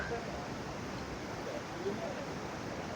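Dudhsagar waterfall in Goa, a steady, dense roar of falling water heard from a viewpoint, constant and broadband throughout with faint wind rumble mixed in.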